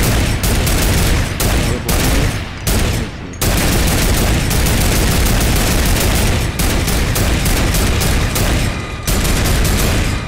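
Sustained automatic gunfire from a turret in Fortnite, loud and close, firing in long continuous bursts broken by a few brief pauses over about ten seconds.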